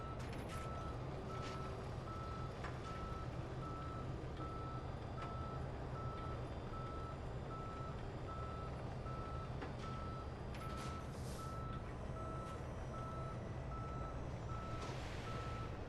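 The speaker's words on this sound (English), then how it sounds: "It's amazing that tow trucks like this actually exist." Reversing beeps from a tow truck on a highway in the Police Simulator video game, a steady repeating beep over continuous traffic and engine rumble, with a brief air-brake hiss near the end.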